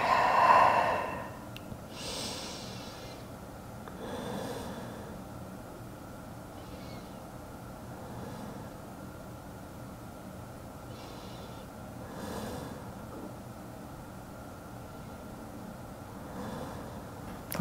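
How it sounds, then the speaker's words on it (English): Slow, deep breaths during a quiet yoga session, a few soft inhale-exhale swells spaced several seconds apart, close and gentle against a hushed room. "And breathe here."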